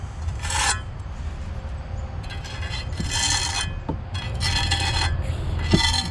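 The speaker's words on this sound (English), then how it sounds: "I just take back that trowel while it's wet and just do that" A trowel tooling wet mortar joints on laid concrete block makes repeated short scraping rasps, close and distinct, in several separate strokes over a low background hum.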